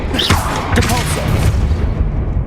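Depulso spell in the Hogwarts Legacy video game knocking down a hanging object: a sharp swooping whoosh followed by a loud, rumbling crash and booming impact, with lingering heavy low-end rumble afterward.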